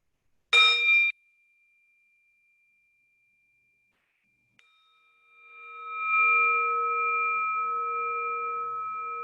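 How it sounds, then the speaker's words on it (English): A meditation bell struck twice: a brief bright strike, silence, then a second strike that swells and rings on with a steady, sustained hum. "Let's have a sound of the bell."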